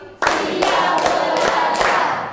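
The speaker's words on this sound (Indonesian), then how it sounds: "Tepuk 5 kali." A class of children claps hands in unison, five quick group claps in a row, each a sharp burst of many hands ringing briefly in the room.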